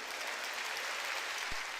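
Soft, steady clapping from a church congregation during a sermon, heard at a distance and holding an even level throughout.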